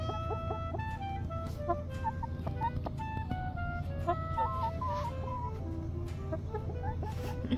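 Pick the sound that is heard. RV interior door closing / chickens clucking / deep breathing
chickens clucking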